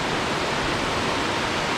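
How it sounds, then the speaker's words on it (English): A triple waterfall in South Carolina in autumn sends up a loud, steady, broadband rush of falling water that fills the whole moment without pause. "really triple waterfall"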